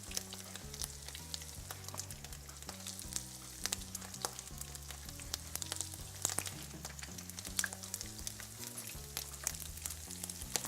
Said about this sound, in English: plop these into the oil, and they only take a few minutes on each side to be lovely and golden brown.